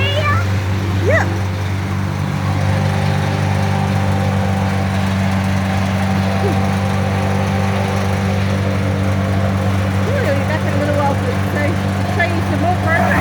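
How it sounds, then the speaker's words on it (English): A mini excavator and wood chipper work tree branches outdoors, a loud steady engine drone with a constant low hum running throughout, with a few brief higher yelps over it. "So they got the little mini excavator to help get all the tree branches into the truck and into the chipper."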